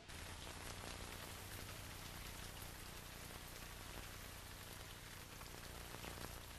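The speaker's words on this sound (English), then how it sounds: "Heavy rainfall brings a halt to the digging." Heavy rain pours down steadily at an excavation site, a dense, loud, unbroken hiss of drops hitting the ground with no pauses and no voices.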